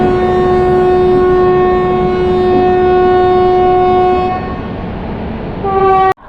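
An Indian Railways train hauled by a WAP-7 electric locomotive from Royapuram shed sounds a long, loud, steady multi-tone horn at a station, then a short second blast cuts off sharply.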